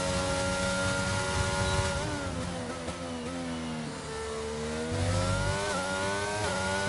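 Formula 1 car engine from the racing game F1 22 on a flying lap at the Australia circuit, a loud, steady high-pitched whine rising and dipping with gear changes and throttle, heard alone.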